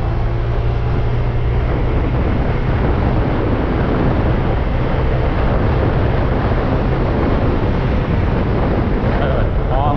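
A Honda PCX ABS scooter's 18-horsepower engine drones loudly and steadily beneath heavy wind rush while accelerating in traffic, recorded while riding, with no clear rise in pitch.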